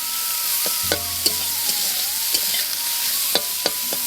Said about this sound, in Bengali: এরপর করে মতন একটু নুন দিয়ে দিলাম এবার একটু ভাজা ভাজা করে নামিয়ে দেবো